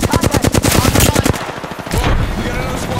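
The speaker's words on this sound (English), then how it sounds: "Taking fire. I'm down. They're shooting at me." Rapid automatic gunfire in a tactical shooter video game, loud and close bursts of rattling shots that trail off into scattered echoing fire.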